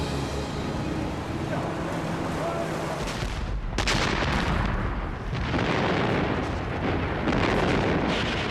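German artillery booms erupt amid dense, rumbling battle noise at Anzio in 1944, with a sharp loud blast midway and continuous roaring explosions throughout.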